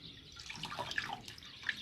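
Soaked mallow leaves are squeezed by hand, releasing trickles and drips of water into a container, soft and close, with scattered splashes and no talking.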